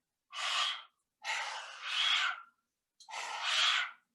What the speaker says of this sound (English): Mouth breathing.